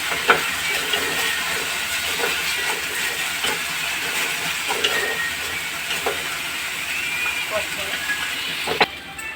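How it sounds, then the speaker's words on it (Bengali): Ginger and dry red chilli paste frying in a kadai gives off a steady hiss and sizzle, with faint stirring clicks throughout. "এটা এবার কড়াইতে দিয়ে দেবো, দিয়ে একটু ভালো করে ভাজা ভাজা হতে দেবো।"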